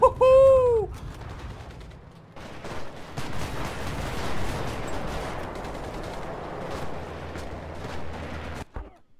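A big bomb explodes and destroys a tank in the war game Enlisted, a heavy rumbling blast that rolls on for several seconds amid crackling debris and distant gunfire, then cuts off abruptly.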